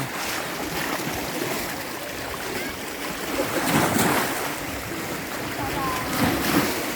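Water laps and splashes steadily against the shore at Lučica beach in Croatia, with wind noise and a continuous wash of surf throughout.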